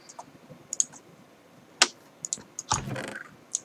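Fingers type on a computer keyboard during a Minecraft session, with irregular bursts of crisp, close key clicks and a few louder taps, alone without voices.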